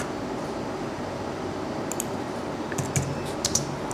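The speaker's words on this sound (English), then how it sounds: "we'll make sure I type this properly" Keys clacking on a computer keyboard in a few light, quick taps near the end, mostly quiet before that, with no talk.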